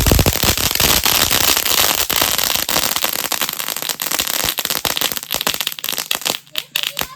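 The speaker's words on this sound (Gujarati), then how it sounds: "આ ફટાકડો ફાઇનલી રંગ લાવ્યો હો જો અહીંયા ફોડું છું" A firecracker lit for Dev Diwali in a village crackles loudly for several seconds in a dense rapid string of pops and snaps that thins out toward the end, with people talking nearby.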